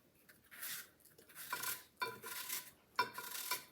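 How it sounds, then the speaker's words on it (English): A knife slices through apples at home in a quiet kitchen, giving faint separate cuts roughly every half second, with light clinks against the blade and board and no talk. "I'm just using a knife, doing it the old-fashioned way."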